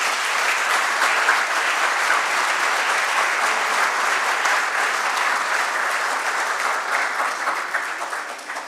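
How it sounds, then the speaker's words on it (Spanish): An audience at a book launch gives a long, loud burst of sustained clapping that fills the room and fades slightly at the end. "A ellos yo les quiero pedir primero que nada un fuerte aplauso"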